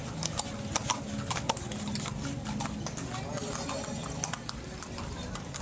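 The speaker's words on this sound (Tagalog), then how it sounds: "Mga kabayo, kalesa." Horse hooves of kalesa carriages clip-clop on a street in a historic heritage village at Christmas, sharp irregular strikes from several horses under a busy crowd with people talking nearby.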